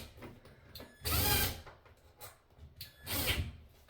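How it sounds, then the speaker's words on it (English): A power drill drives a screw into a wall anchor during a bathroom towel holder installation, with two short bursts of whirring close by, separated by quieter handling clicks. "We're going to put the drill in forward motion."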